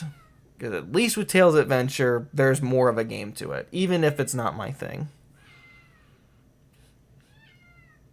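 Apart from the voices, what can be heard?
pet cat meowing in the background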